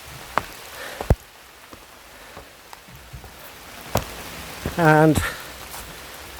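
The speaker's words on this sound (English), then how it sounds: "it's pouring down now outside this wood, so I'm going to get soaked when I exit it" Heavy rain pours down on a Lake District wood, a steady close patter with scattered drips, while someone briefly speaks near the end.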